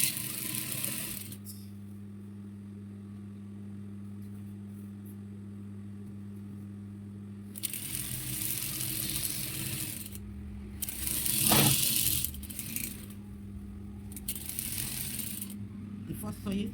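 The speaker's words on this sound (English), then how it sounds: "As you're sewing, you're stretching." A sewing machine stitches an elastic waistband on palazzo trousers, with a steady low mechanical hum for several seconds followed by noisier handling sounds and some talking.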